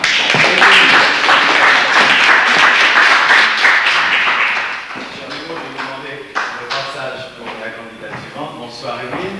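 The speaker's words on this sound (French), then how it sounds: "Nous allons l'applaudir naturellement." Audience clapping in a 1960s French television studio as a young 17-year-old singing contestant is introduced, loud and dense for several seconds, then thinning into scattered claps and taps while voices begin to talk.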